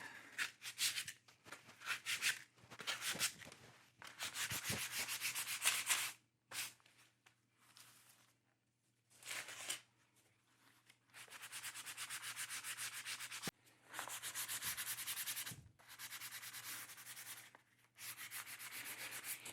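Sandpaper of 220 grit rubs over veg tan leather in repeated bursts of scratchy sanding, some long and some short, separated by quiet pauses, close and fairly soft.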